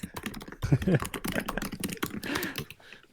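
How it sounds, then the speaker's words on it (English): Rapid keyboard typing clatters in quick bursts, close by, with a person talking over it. "We just hear him typing."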